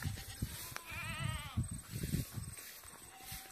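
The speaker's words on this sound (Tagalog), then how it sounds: "Maraming kambing dito." Goats bleating at a vegetable farm near an old storm-damaged greenhouse, one clear wavering bleat standing out over a steady mix of nearby animal noise and low rumble.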